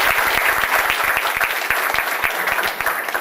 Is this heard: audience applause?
yes